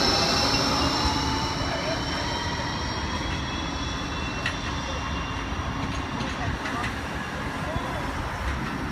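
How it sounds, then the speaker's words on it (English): A G-Link tram rumbles steadily as it pulls away from the Nerang Street platform, wheels faintly squealing and clacking on the rails, with a continuous low drone throughout. "G-Link tram 9 now departing for the University Hospital."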